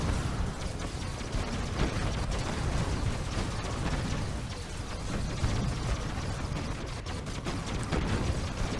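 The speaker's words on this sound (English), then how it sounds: "This insane turret versus turret fight." Dense, continuous turret battle from Kane's Wrath, a Command & Conquer strategy game with Black Hand turrets, a loud unbroken wall of rapid firing and explosions with mechanical clatter throughout.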